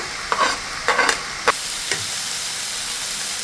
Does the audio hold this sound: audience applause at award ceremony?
no